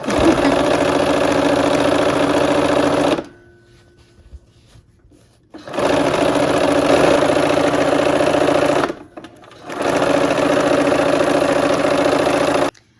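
Sewing machine stitching quilt strips of fabric together, running loud and steady in three long bursts separated by short pauses, close by with no talking.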